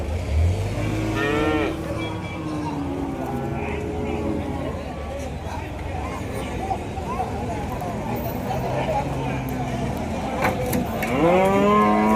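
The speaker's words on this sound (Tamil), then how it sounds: "உள்ள ஒரு வட்டக்கொம்பு மாடு இருக்குதுங்க" Cattle lowing repeatedly at the Kundadam cattle market, with long, drawn-out moos near the start and the end over a steady hubbub of people talking and market activity.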